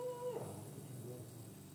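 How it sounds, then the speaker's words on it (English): A pet dog whimpers and lets out a short rising howl at close range, a single drawn-out cry in the first half-second that trails off into quieter room noise. "That's my dog."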